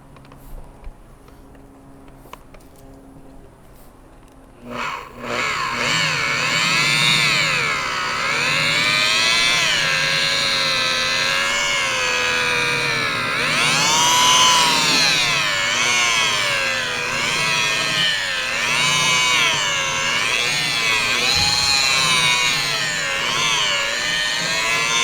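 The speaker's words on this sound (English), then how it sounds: "apply some of that onto the headlight, and go ahead and just buff that one into it" Power buffer spinning up to a steady whine as it works polishing compound into a foggy JDM headlight lens, a quiet start giving way to a loud, continuous tone that wavers in pitch with changing pressure.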